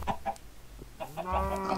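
Minecraft chickens cluck in a short run of clucks and squawks from the video game, fairly close and clear, with no talking over them.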